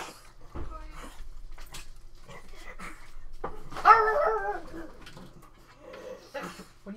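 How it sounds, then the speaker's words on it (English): A dog in a house gives a few short, fairly faint barks and whimpers between quiet stretches, with a person talking intermittently nearby. "What are you barking at?"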